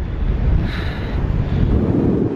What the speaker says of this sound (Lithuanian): O dabar dar priešinis vėjas,